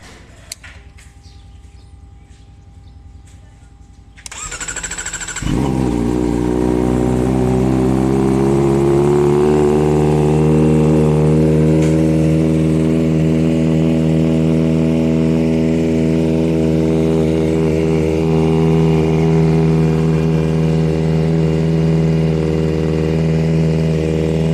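Kawasaki ZX-4RR motorcycle fitted with an SC Project exhaust, cold started: a few seconds of quiet clicks, then the engine catches with a loud burst and settles into a steady, rich, throaty idle that holds up close for the rest of the clip.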